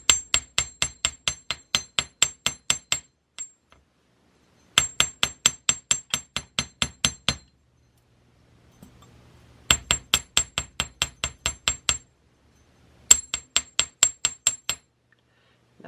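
Sharp metallic hammer taps on a bead-making piece come in quick rhythmic bursts of about eight to ten strikes. Each burst is separated by short pauses, and the taps sound close and clear.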